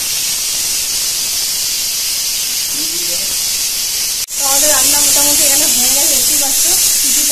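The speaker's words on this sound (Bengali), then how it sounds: "আর এটাকেই এখন বসিয়ে দেবো, আর সিটি দিয়ে নামিয়ে নেবো" A pressure cooker boiling kabuli chickpeas lets out a loud, continuous hissing jet of steam that cuts off for an instant and resumes even stronger, with a wavering tonal voice-like sound over the latter half.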